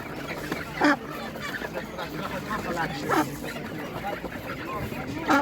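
Ducks quack in a few loud bursts at irregular intervals over softer background bird chatter at an animal market.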